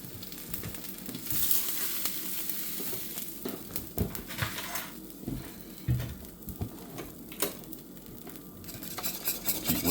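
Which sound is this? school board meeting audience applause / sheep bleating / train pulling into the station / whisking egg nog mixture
whisking egg nog mixture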